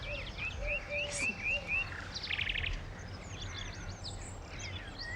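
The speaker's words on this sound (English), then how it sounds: "That one? No, that's a blackbird." Blackbird singing in an English countryside garden, a run of fluting whistled phrases followed by a quick trill and further chirps, fairly clear over a low outdoor background.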